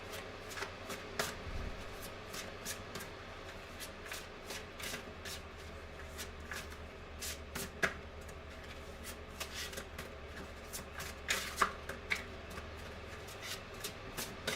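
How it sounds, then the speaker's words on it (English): Tarot cards are shuffled by hand close up, soft riffling and tapping in irregular bursts over a low room hum, with no talking. "when I'm shuffling and the cards are not flying out"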